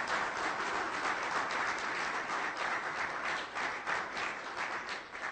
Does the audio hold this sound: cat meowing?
no